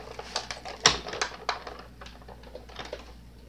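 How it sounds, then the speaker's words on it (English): A Cuttlebug die-cutting machine cranks two thin sheets through for a cut, giving a run of close, quiet clicks and rattling knocks with one sharper snap near the start, heard alone. "that'll go right through the Cuttlebug"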